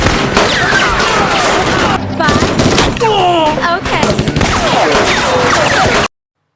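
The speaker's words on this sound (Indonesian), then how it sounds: "mereka langsung dihujani tembakan dari jarak jauh dengan senjata canggih dari Eropa" Loud, rapid bursts of gunfire crackle densely throughout, like a film battle scene of police fired on from long range with advanced European weapons, ending abruptly.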